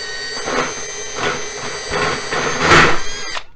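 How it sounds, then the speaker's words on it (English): Power drill boring through a CAMCO stove top cover, a loud close whining motor with rising grinding surges as the bit works in, ending abruptly. "I drilled all the way through on that one"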